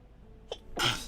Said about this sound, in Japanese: くしゃみでしょ